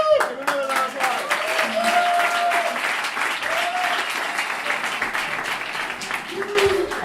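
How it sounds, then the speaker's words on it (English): Audience applause and clapping fill a DemoJam event hall, a steady dense roar of hands that stays loud throughout, with whoops and brief voices mixed in and a host's voice speaking over it at times. "Give another round of applause."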